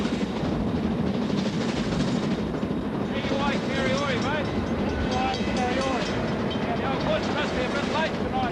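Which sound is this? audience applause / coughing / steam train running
steam train running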